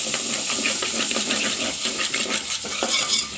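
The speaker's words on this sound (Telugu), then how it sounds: "ఉల్లిపాయలు బాగా ఫ్రై చేసుకుందాం" Sliced onions frying in a pan for a Konaseema-style prawn and mango curry, a steady loud hissing sizzle with constant high crackle running throughout.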